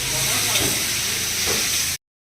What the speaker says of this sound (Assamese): এতিয়া আলুটো ভাজিম